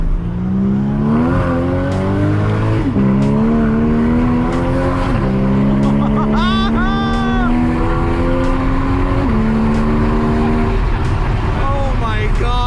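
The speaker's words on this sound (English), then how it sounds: "we're gonna accelerate now and see" A 2015 Porsche Cayman GTS accelerates hard in first gear, its engine loud and close, rising in pitch with several upshifts, while people inside exclaim over the roar.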